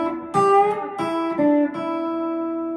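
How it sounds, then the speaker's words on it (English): An electric guitar phrase of a few sustained notes picked in turn, one of them bent upward so its pitch glides, ringing clearly and alone. "Adding a bend to this would make that same thing sound like this."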